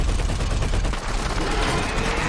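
Rapid, dense bursts of automatic gunfire from a helicopter rattle continuously, loud and harsh, with no pauses or speech.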